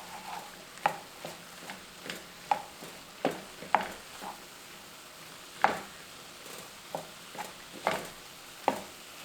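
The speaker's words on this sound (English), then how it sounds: "And then I'm going to add in a teaspoon of minced garlic, and then just get it all mixed together." Sautéed zucchini and vegetables with minced garlic are stirred in a pan, giving quiet, evenly repeated utensil taps and scrapes roughly twice a second over a faint background, with no talk.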